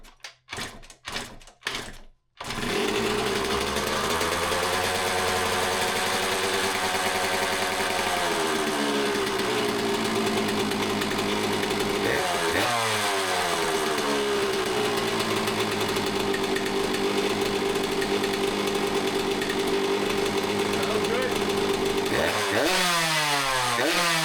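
A neglected 2001 Yamaha YZ125 two-stroke dirt bike takes a few quick kick attempts, then fires and runs on its own carburetor, idling with a buzzy high-pitched rasp and revving up several times, close and loud.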